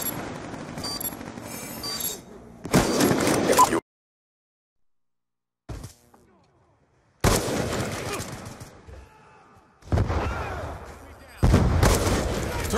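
An explosive charge going off in a combat video game, with loud bursts and crashing debris broken by sudden silent gaps, amid gunfire and shouted voices.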